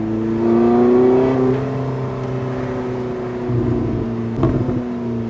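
A Porsche 918 Spyder engine revs and accelerates up close, a steady rising drone with rhythmic harmonics, then a few crackling bangs and burbles near the end.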